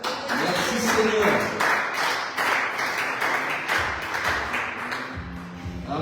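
Church congregation applauding during worship, a dense wash of clapping held steady for several seconds with voices mixed in.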